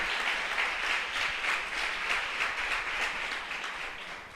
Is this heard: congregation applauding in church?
yes